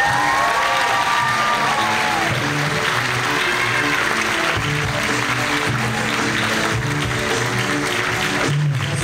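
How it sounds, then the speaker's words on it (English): An audience at a Conroe, Texas rally against censorship claps and cheers loudly and continuously, with whoops and shouts rising over the dense applause. "a big Texas round of applause for Cassandra Spencer"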